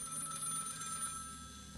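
An old-style telephone bell rings in a horror video game, a steady, fairly quiet electronic trill sustained throughout with no voices over it.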